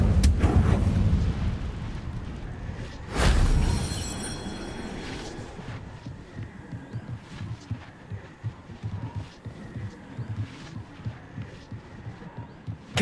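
Incendio fire spell cast in Hogwarts Legacy, a sudden loud whooshing burst followed by a crackling, rumbling flame that fades into a pulsing low throb of game sound.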